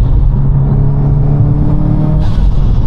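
A heavily modified 605bhp 2014 Subaru WRX STI roars loudly from close by during a drive, a dense continuous engine drone that climbs steadily in pitch before a brief break as the revs are matched on a gearchange.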